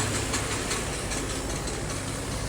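A bus engine idles steadily with a dense, low diesel rumble and knock, loud and continuous, with no voices over it.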